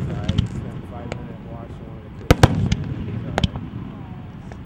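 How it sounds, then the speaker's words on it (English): Fourth of July fireworks and firecrackers burst in sharp irregular bangs and pops, some loud and close, over a low rumbling crowd background while people talk nearby. "I got firecrackers that make that noise"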